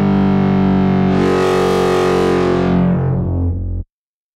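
A sustained buzzy synthesizer note in Massive, passed through a distorting low-pass filter, with harsh harmonics that brighten as the filter opens, then darken and stop abruptly.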